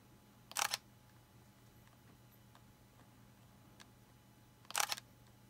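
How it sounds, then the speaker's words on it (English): A repaired Fujifilm X-T2 mirrorless camera fires its shutter twice, each a short crisp mechanical click spaced about four seconds apart, close up in an otherwise quiet room. "the pre-shutter works, and the shutter works"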